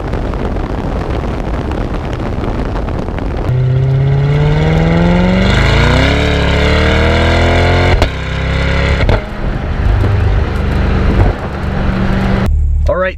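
A stock exhaust on a 2020 C8 mid-engine Corvette drones loudly while driving, its pitch climbing as the car accelerates and then dipping through a shift, mixed with steady wind and road noise throughout.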